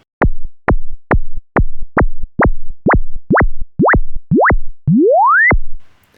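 A synthesized laser zap made in Ableton Live fires repeatedly, about a dozen bright chirps; each successive zap's pitch-envelope attack stretches longer, ending in one drawn-out rising whoop.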